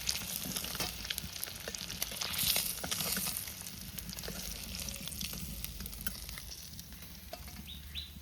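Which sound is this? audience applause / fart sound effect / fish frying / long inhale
fish frying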